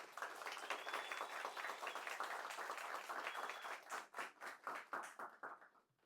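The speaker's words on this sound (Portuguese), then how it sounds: "Eu queria uma salva de palmas bem calorosa para Márcia Tiedemann" Warm round of applause from a small studio audience on a talk show, dense clapping that thins into scattered individual claps and fades out toward the end.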